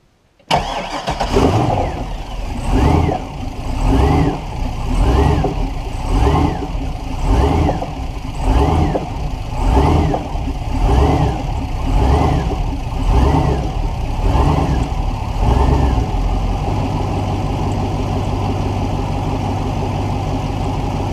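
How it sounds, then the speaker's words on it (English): A Mastercraft boat engine with a failing fuel pump cranks and fires up, then runs steadily with a loud, pulsing rhythm that smooths into a constant idle near the end. "As I start the engine"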